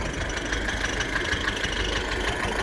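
A steady tractor engine drones and idles with a rough low rumble at a hayfield, constant throughout with no voices.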